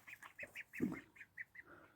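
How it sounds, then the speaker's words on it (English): Small Indian runner ducks in a vegetable garden give a quick run of soft, close quacks and chattering calls, some overlapping, with no talking. "some little Indian runner ducks"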